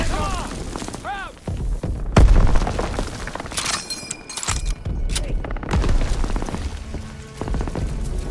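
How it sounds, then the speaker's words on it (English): A grenade blast in the Call of Duty: World War 2 video game, a sharp booming explosion amid a dense battle soundscape of gunfire and shouting soldiers, with further impacts and debris following. "Daniel, get a grenade in that bunker!"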